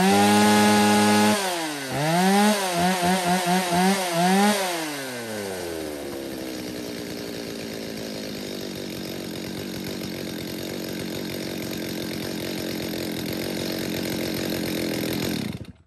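A used Japanese-market chainsaw, one of a lot of Stihl, Echo, Shindaiwa and Makita saws, starts with a few rising revs, then settles into a loud, steady two-stroke idle that runs on close by with no talk.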